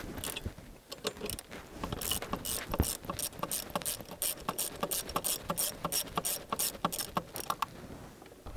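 A new Halfords ratchet from a 150-piece set undoing bolts on a Range Rover P38 engine bay: close, sharp rapid clicking in uneven bursts with pauses, loud and alone, no voices.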